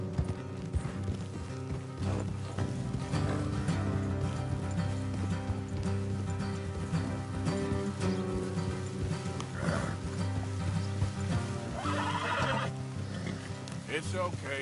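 Horses whinny and hooves clip-clop in Red Dead Redemption 2 as riders travel off the road, with several neighs and steady hoofbeats mixed under game music and talking voices.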